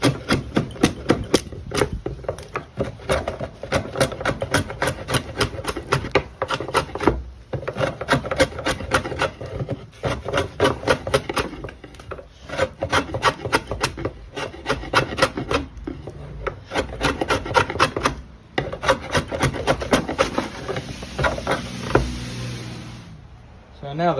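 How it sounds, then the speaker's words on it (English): A draw knife shaving a bevel into 70-year-old wooden siding, giving steady repeated rasping strokes up close, with brief pauses between runs and speech at moments. "now that I've gotten a fairly good amount off with my handy dandy draw knife"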